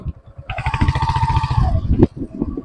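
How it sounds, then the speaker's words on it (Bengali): A motorcycle engine putters close by at low revs while riding slowly on sand, its steady throbbing briefly rising in pitch and then dropping back to a slow idle. "চেষ্টা করব এখান থেকে যাতে আস্তে আস্তে নিরাপদে বাইকটাকে নিয়ে যাওয়া যায়।"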